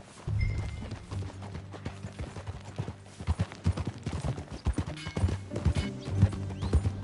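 Rhythmic clip-clop of horse hooves in the video game Red Dead Redemption 2, starting at a walk and quickening into a trot, with a brief whinny and background music.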